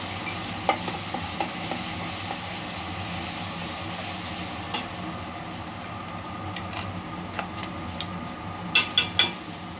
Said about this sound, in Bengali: তেলের মধ্যে ফ্রাই করি।